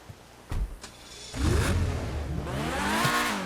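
In GTA Online, the engine of the Pegassi Torero 80s supercar starts with a couple of clicks and a crank, then catches and settles into a rising, throaty rev before idling, all close up.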